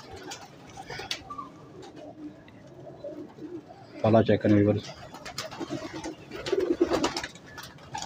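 High-flying pigeons coo in a loud, throaty burst up close, with softer coos and chirps around it, while someone speaks over the birds.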